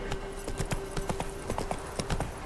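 Roach the horse gallops in The Witcher 3, hooves pounding in a quick, steady rhythm of clear clip-clop beats with a faint steady tone running underneath, close and fairly loud.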